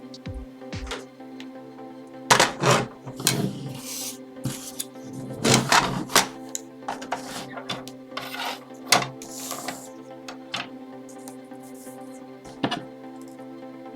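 Cardstock being trimmed for a handmade sympathy card, a few sharp cutting and sliding strokes at a craft table, close and intermittent over a steady background hum, with no talking.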